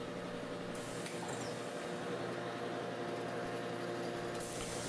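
A metal planer cutting at a low 1/8-inch feed rate makes a steady mechanical whir and broad hiss that holds level throughout, with no talk.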